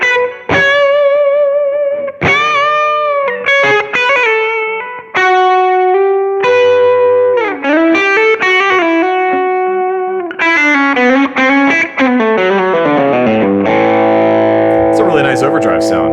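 Electric guitar played through a Rat distortion pedal and a Preamp Mark II overdrive, loud sustained chords and single-note lead lines with bends, steady and continuous with no voices.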